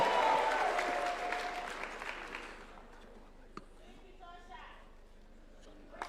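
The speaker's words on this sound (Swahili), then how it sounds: "Wapi makofi ya Aaron Cheruiyot" Crowd clapping at a UDA National Governing Council gathering at State House in Kenya, loud at first and then tapering off over several seconds into a quieter room with scattered faint sounds.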